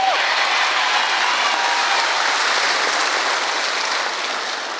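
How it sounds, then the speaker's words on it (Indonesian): Audience at a humorous Javanese Islamic sermon gathering applauding, a dense, steady wash of many hands clapping that continues throughout and eases slightly at the end. "Ora usah tepuk tangan."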